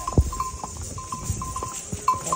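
Horse hooves clopping along the stone pilgrimage path up to Vaishno Devi, irregular hollow knocks under a faint steady background with a high tone, and one louder thump near the start.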